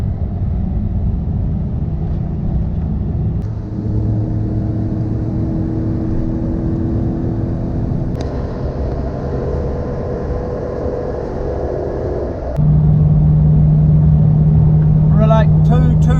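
A 2003 Lexus with a non-VVTi engine revs hard at high RPM, its steady drone holding loud and close throughout and rising in pitch with a sharper whine near the end, with no talk over it.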